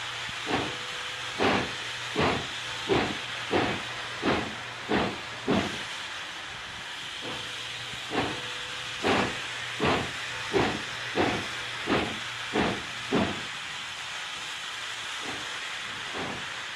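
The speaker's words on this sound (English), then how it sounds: "It must have been quite the sight to see a massive steam locomotive like this creeping down the way." Frisco 4524, a massive steam locomotive, creeps along a quiet residential street. Repeated sharp steam chuffs come in two rhythmic bursts over a steady hiss and low rumble, with a brief pause between the runs.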